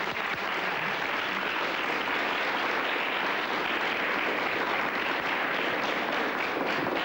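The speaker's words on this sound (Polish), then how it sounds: "No muszą być brawa." Sustained audience applause after a performance on a 1998 evening entertainment show, a dense, steady wash of clapping at even loudness throughout with no talk.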